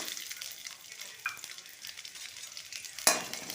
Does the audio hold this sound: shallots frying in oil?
yes